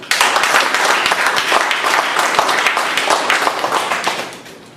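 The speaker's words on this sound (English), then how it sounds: "I would like to hear a big round of applause for it" A meeting audience gives a sustained round of applause, dense clapping that holds steady for several seconds before tapering off at the end.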